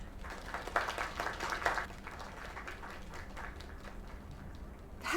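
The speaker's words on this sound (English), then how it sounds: "Another round of applause." A small audience applauds in a bar, with light scattered clapping and chatter, quiet and somewhat distant, rising briefly early on before settling under the murmur of voices.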